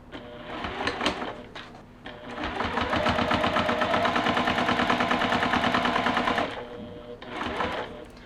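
A sewing machine stitches binding onto a quilted pillow in rapid rhythmic bursts, a short run, then a long steady stretch, then another brief burst, close and clear.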